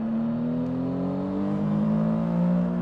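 A new Yamaha motorcycle engine running with a quick shifter gives a steady, loud mechanical drone whose pitch slides gradually between gears, close and continuous.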